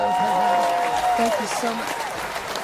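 Audience applause greets a co-host at a fitness and entertainment show, a steady wash of clapping running under a host's voice for the whole stretch.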